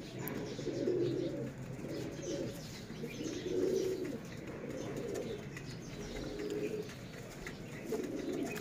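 Salara Teddy breeder pigeons, a pair in Lahore, coo repeatedly in soft low rolling phrases at a steady rhythm, close by, over constant background hiss and faint ambient noise.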